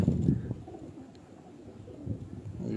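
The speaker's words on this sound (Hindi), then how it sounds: "ये कबूतर वाकई ही कबूतर है माशाल्लाह।" A pigeon on a rooftop coops soft, low, throaty coos in short rolling bursts, close by and fairly quiet, with no talk over them.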